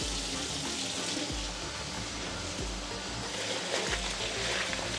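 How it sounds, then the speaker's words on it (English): Rice being rinsed by hand in a bowl of cold water, a steady close sloshing and swishing that runs without a break. "So fill it with cold water, swish it around with your hand"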